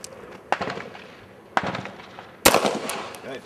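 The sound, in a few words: gunshots from a Beretta 92 FS handgun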